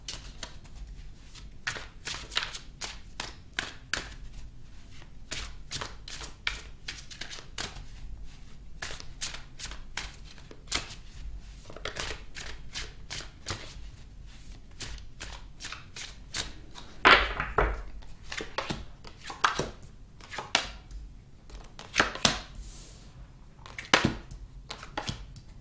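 Tarot cards are shuffled by hand at close range, a long run of quick riffling flicks and soft slaps with brief pauses, louder bursts near the end as cards are pulled.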